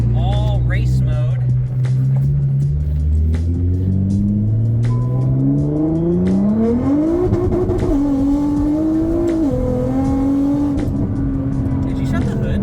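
A Nissan R35 GTR in race mode revs and pulls away, a deep engine drone climbing steadily through the gears with shifts, loud and close, while people talk over it.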